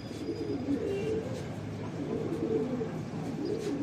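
Pigeons cooing steadily inside a breeding loft in Bhopal, soft low rolling coos overlapping throughout, fairly close and continuous.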